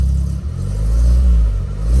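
A VW Golf 5 engine revving under acceleration, a loud, deep throaty rumble that swells and dips across two seconds, close by with no voices.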